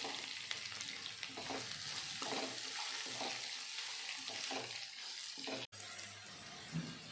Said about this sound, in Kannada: ಈಗ ಗ್ಯಾಸ್ನ ಮೀಡಿಯಮ್ ಫ್ಲೇಮಲ್ಲಿ ಇಟ್ಕೊಂಡು ಚೆನ್ನಾಗಿ ಫ್ರೈ ಮಾಡ್ಕೊಬೇಕಾಗುತ್ತೆ